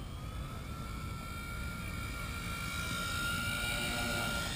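A Blade mCP X 2 RC helicopter flies inverted, its rotor buzz a steady faint drone with a rising whine, slowly growing louder as it nears.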